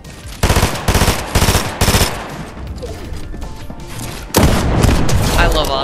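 Automatic weapon fire rips through a video game match in loud rapid bursts, several short volleys followed by a quieter stretch and then another sustained burst near the end.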